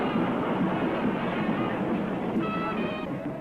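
A steady, heavy rumble of a tram rolling along its rails in Rio de Janeiro during Carnival, continuous and fairly close, with a faint metallic whine creeping in toward the end.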